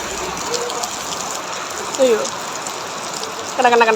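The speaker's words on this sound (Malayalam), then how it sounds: "നല്ല മഴ പെയ്യുന്നു" Heavy rain pours steadily in a dense, hissing wash, with brief voices and a few tonal sounds breaking through near the end.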